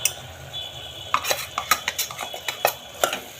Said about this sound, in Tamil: ஆட் பண்ணி நல்லா கிளறுங்க.